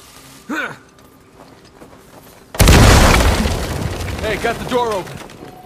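A loud explosion in the video game Uncharted blows a door open, a sudden booming blast followed by rumbling debris, with voices talking before and after.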